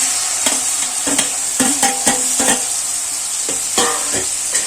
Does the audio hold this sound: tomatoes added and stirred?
yes